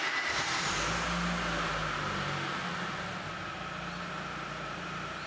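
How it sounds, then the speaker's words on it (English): A car engine idles after being started during a USB oscilloscope ignition test, a steady close mechanical hum with a faint start-up surge at the beginning, no talking. "We start the engine and let it idle."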